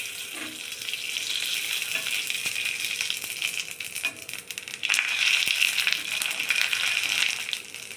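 Wheat papad fries in hot oil, giving a continuous close hiss and crackle that grows louder and denser partway through, with no voices.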